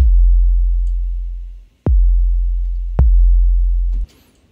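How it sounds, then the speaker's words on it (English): Deep electronic 808 kick drum hits boom three times, each a loud sustained low tone that decays slowly, with a faint extra kick layer underneath in a beat. "I've also got a kick sample that plays sort of on some of those kicks and sometimes in between them as well."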